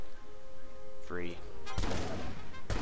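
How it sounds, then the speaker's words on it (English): A shotgun fires in Battlefield Heroes, two sharp, loud blasts about a second apart, the first with a broad ringing tail, following a brief rising whistle amid game background noise. "That's a shotgun. You can shoot people with it."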